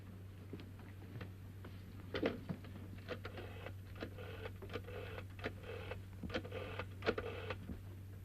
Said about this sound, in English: Will you ring up Whitehall 1212? May I use your phone?